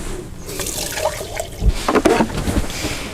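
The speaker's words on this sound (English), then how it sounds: "Just got to top up my water pot." Water splashes and trickles briefly as a water pot is topped up in a van workspace, close and moderately loud, with a couple of stronger pours near the middle.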